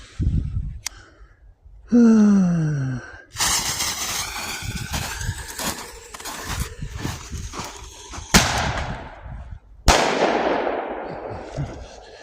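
Several loud bursts and crackles of fireworks going off one after another in winter, with sharp bangs and hissing decay, close by and loud.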